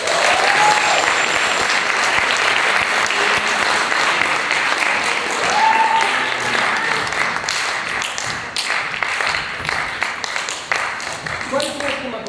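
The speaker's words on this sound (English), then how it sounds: "Let's give him another round of applause." Loud, sustained applause and some cheering from the audience at the San Diego Percussion Festival follow a percussion ensemble's set, thinning into scattered claps and taps near the end with voices mixed in.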